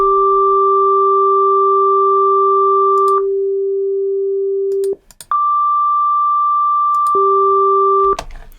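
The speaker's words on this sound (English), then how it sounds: "we have 2 sine waves on each channel, and I've put them at different octaves" Two steady pure sine tones an octave-type interval apart, one per stereo channel, each switching on and off in turn with brief gaps and small clicks at the edges; loud and clean with no other sound.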